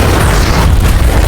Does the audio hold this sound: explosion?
yes